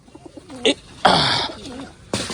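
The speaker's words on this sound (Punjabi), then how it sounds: "ਕਬੂਤਰ ਤੇ ਕਬੂਤਰੀਆਂ ਸਾਰੇ ਬਾਹਰ ਕੱਢ ਲੇ" Pigeons coo in short, soft bursts close by, with a couple of brief rustles or wing flutters in between and no voices.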